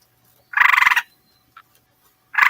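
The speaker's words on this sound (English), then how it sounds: "He sounds like a happy frog." A textured frog toy gives a loud ratcheting croak at close range, then a small click, and a second croak starts near the end. No one speaks.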